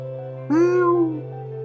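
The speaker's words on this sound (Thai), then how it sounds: "เสียงร้องแมวแมว" A single drawn-out cat meow, rising then falling over about a second, heard alone over a steady low hum at night near a campsite by a stream.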